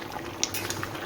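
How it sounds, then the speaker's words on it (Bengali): Fish curry broth at a steady boil in a pot on the stove, a continuous low bubbling and simmering hiss with a few sharper pops and a light clink, close and fairly quiet, no voices. "হ্যাঁ ঝোল ফুটে গেছে"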